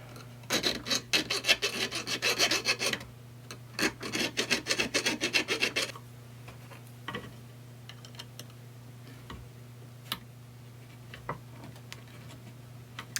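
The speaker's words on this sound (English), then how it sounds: "So we'll just need a little round file to clean that up." A small round file rasps back and forth in a tube rivet hole, two close runs of quick rhythmic strokes, followed by quieter scattered clicks and taps with a steady low hum underneath.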